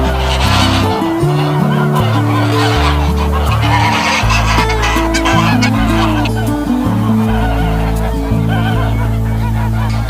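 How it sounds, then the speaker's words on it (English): Saddleback Pomeranian geese on a farm keep up a loud, close honking chorus, many birds calling over one another in an unbroken stream of nasal honks. "Saddleback Pomeranian geese,"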